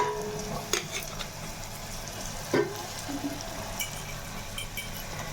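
Green masala paste goes into goat head curry frying in a pan, giving a steady sizzle with a few sharp clinks of a utensil against the pan, close and moderately quiet.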